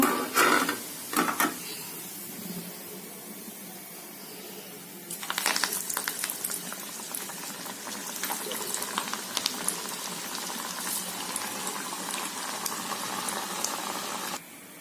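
Coconut vadas deep-frying in hot oil give a steady bubbling sizzle that swells louder partway through and continues under light kitchen clatter.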